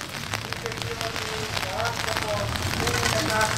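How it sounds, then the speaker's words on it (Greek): Steady rain patters on a surface in a constant hiss with scattered drops, while a voice speaks faintly underneath. "Δύσκολος καιρός με τη βροχή, μας την έχει χαλάσει."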